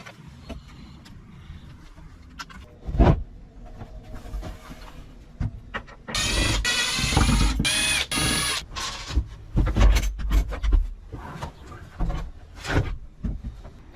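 Close-up clattering, ratcheting and scraping as a cabinet is taken apart inside a Hymer Aktiv camper van, with irregular knocks, tool whirs and a louder grinding burst midway.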